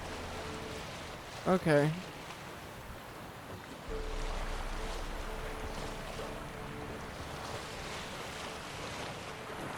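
A boat sails on sea waves in The Witcher 3, a steady wash of surf and wind rushing throughout, with a brief spoken word near the start.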